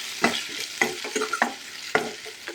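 Spices for rasam are stirred and fried in a hot pan, with a few sharp scraping strokes over a steady soft sizzle, close and fairly loud.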